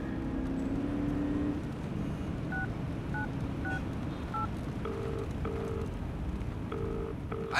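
A telephone is dialed, a series of short two-tone keypad beeps pressed one after another at an uneven pace, heard over a low steady rumble of background traffic.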